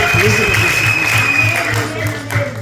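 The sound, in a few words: congregation applause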